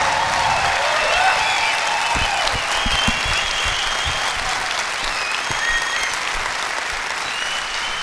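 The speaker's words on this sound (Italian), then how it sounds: "io vi chiedo per favore un altro applauso per Paolo Rossi" A comedy club audience in Milan applauds a guest comedian, a dense, loud burst of many hands clapping that holds steady throughout, with some scattered whoops and cheers.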